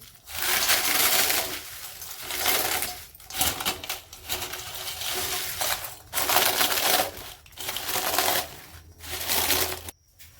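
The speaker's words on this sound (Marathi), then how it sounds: "आता पापडा पण असा चुरा करून घेतलेला आहे जास्त बारीक नाही असं जाडसर करायचं" Papad crushed by hand into coarse pieces gives a run of dry, brittle crackling bursts, close and fairly loud, with short pauses between the handfuls and no talking.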